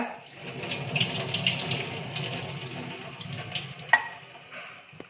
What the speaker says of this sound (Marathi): त्याच्यावरती पाणी ओतूया.